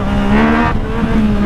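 A car surges forward under hard acceleration after only a light tap of the throttle, a loud, close engine roar with a steady rising tone and a brief break partway through.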